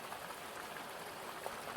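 Soft, steady rain patters evenly on a surface at a distance, a faint continuous hiss with scattered drops and no voices.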